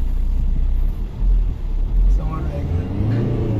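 A car engine idles and rumbles low after being put into first gear during a driving lesson, with brief swells of revving while people talk inside the car.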